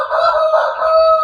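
A three-month-old Bangkok rooster crowing once, a loud, close, sustained tonal call lasting just over a second.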